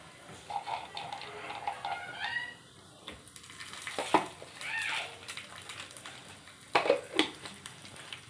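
Cashews and raisins fry in a pan for bread halwa, giving a soft sizzle under scattered clinks of a spoon against the pan and brief stirring sounds. There is no talking.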